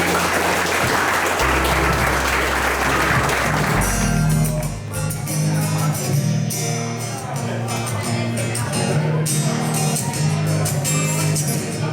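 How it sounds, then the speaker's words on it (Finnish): Crowd applause at an outdoor topping-out celebration for a new loft building, loud sustained clapping that fades into scattered claps while someone talks over it. "jos antaa heille isot aplodit nyt."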